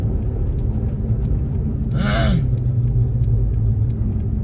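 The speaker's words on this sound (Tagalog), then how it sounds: "Papa-align muna yung gulong ng ating sasakyan. Medyo gumigiwang-giwang na, nagwiwiggle." A car drives on a slippery snowy road at minus 35 degrees in Canada, its tyres in need of alignment and wobbling, giving a steady low rumble with a short whooshing swell midway.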